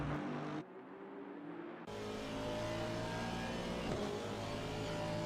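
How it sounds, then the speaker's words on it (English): Big V8 engine of a race car in a sim racing game on the Nürburgring GP circuit, a steady loud droning rumble that holds throughout, swelling slightly as it follows another car. "Now we can hear the big V8 rumble as he's following the Bentley down to the down into sector 2"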